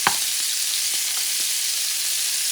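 Scallops brown in a hot frying pan with a loud, steady close-up sizzle and a few soft stirring taps near the start.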